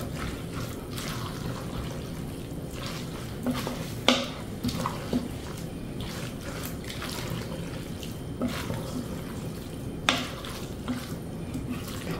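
Liquid sloshes and swirls as salt is stirred into ayran in a bowl, with occasional soft clinks of a utensil against the side.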